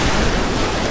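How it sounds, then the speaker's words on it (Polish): Steady, close roar of ocean surf breaking on the beach at Armação, a dense wash of water with some wind buffeting the microphone and no talk. "Tak wygląda plaża w Armacao"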